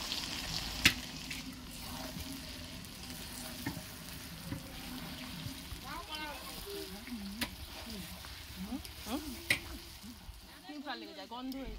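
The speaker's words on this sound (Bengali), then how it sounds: "এইভাবে বেশ ভালো করে নাড়িয়ে নিয়ে কষিয়ে নিতে হবে" Potatoes with chili powder, turmeric and a little sugar stir-fried in a pan, a soft steady sizzle with spatula stirring and scraping, while a voice speaks over the cooking in the second half.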